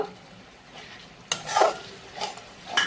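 Cashews, raisins and green chillies stirred into a thickened masala that is starting to release oil, with soft scraping of a utensil in the pan and a few louder clanks over a low, steady sizzle.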